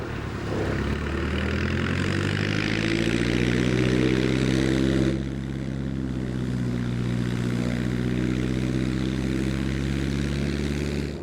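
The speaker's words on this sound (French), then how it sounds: "j'entends l'avion d'un garçon que vous allez découvrir, qui est probablement un des meilleurs pilotes au monde, un bush pilote" Bush plane approaching over glaciers, a steady propeller engine drone with strong low harmonics that swells slightly, then holds a constant loud hum throughout with no talking.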